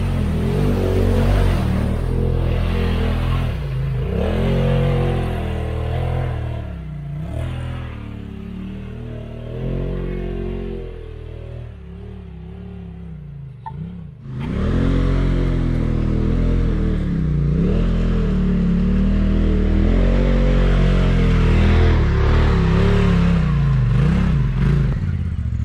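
A UTV on a muddy trail surges and revs over and over, its engine rising and falling loud and close. There is a brief dip partway through before it powers on again, with no speech.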